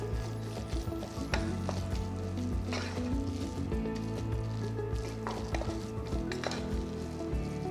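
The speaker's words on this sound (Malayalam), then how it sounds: "നന്നായിട്ടൊന്ന് മിക്സ് ചെയ്യുക." Curd rice with green chilli and asafoetida stirred close up with a spoon in a bowl, giving wet squishing and soft scraping strokes over a steady low background hum.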